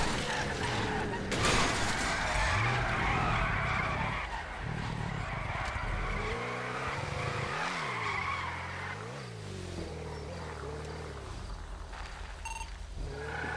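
A car in GTA V drives and skids, with loud tire squeals and revving engine over steady road noise, pitch bending as it slides and turns through the whole stretch.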